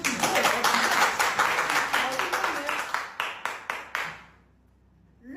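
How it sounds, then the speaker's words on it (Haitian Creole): A crowd claps in dense applause that gradually thins into a few scattered claps before falling quiet, close and moderately loud. "Waouh! Applaudissez pour ça."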